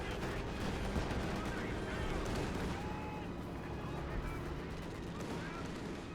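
Aircraft strafing run in Company of Heroes 2, dense rattling gunfire sweeping over the battlefield with thudding impacts, steady and loud for several seconds while someone talks beneath.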